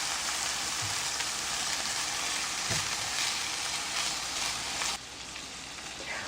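Shrimp fry in oil in a pan for fried rice, giving a steady, close, loud sizzle with a few soft clicks, dropping slightly quieter near the end.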